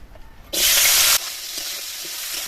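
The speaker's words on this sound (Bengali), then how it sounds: "দিয়ে দেবো সরষের তেল, কাঁকড়াগুলো ভেজে নেব।" Small crabs dropped into hot mustard oil for a village-style brinjal shukto, a sudden loud sizzle that bursts in, holds briefly, then settles to a quieter steady frying hiss.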